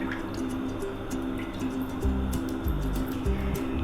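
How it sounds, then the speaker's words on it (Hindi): Cooking oil poured into a pot while making Sindhi biryani, a steady close liquid trickle with faint bubbling and dripping patterns over a low background hum, no voices. "ये जो 1 कप ऑयल है ये मैंने डाल दिया"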